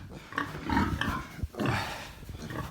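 Short, low grunts from a ten-day-old male piglet, several in a row, close by and fairly loud, with some rustling between them.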